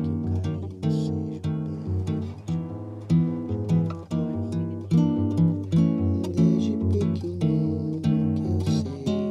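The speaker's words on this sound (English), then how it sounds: "there are a lot of people chanting in the background because there's a baseball game happening right now." A large crowd chants at a baseball game in Japan, a loud, steady, rhythmic cheer with strong tonal accents repeating on a regular beat, with no talking.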